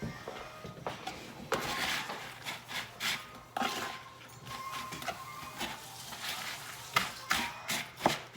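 A cabbage casserole mixture is stirred in a pan, giving soft intermittent scraping and rubbing strokes with faint sizzling, fairly quiet and close.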